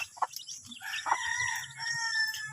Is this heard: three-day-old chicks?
yes